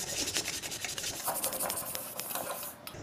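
An iron kadhai being scrubbed with a Scotch-Brite pad and a Vim bar gives a steady, gritty rubbing with quick repeated strokes, close and fairly loud throughout, with no talking.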